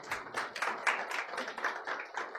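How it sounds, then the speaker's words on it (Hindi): A church congregation claps hands together during a sermon, a dense run of fairly quick, even claps carrying on for a couple of seconds at moderate loudness, with no talking over it. "कम ऑन, ताली बजाकर धन्यवाद करें।"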